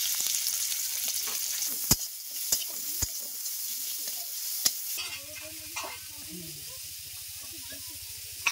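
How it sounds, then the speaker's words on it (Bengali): Small prawns rubbed with salt and turmeric sizzle in hot oil, a steady close hiss punctuated by a few sharp utensil clicks, with a voice briefly heard in the second half. "তেল গরম হয়ে গেছে, চিংড়ি মাছে আমি এখানে লবণ আর হলুদ মাখিয়ে নিয়েছি।"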